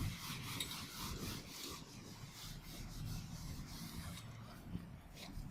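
A teacher writes on a board during a physics lesson on rotational dynamics, producing a continuous rubbing, scratchy sound of steady strokes that stays close and fairly even over a noisy background.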